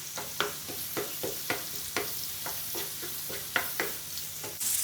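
Masala for beef keema frying in a pan, a constant sizzle broken by repeated scraping stir strokes at an even rhythm, close up with no voices.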